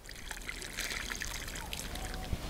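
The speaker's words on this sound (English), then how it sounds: "And then I water the plant." Water trickles and splashes steadily onto soil around a freshly planted Artemisia mixed with manure and compost, a close, continuous pour with faint outdoor background.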